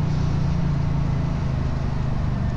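A BSA Gold Star motorcycle engine runs with a steady low rumble and a throbbing hum, continuous and close, with no speech.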